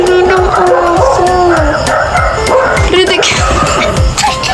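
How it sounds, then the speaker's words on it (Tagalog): A dog barks repeatedly and noisily close by in a home during an unboxing, the yaps and whimpers running under steady talk through most of the stretch. "Ang ingay ng aso."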